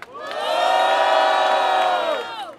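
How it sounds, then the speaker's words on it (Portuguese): A crowd at a rap battle final roars with cheers, whoops and shouts, rising quickly to a loud sustained wall of voices and then trailing off after a couple of seconds. "Barulho pra Jeff Bonaparte!"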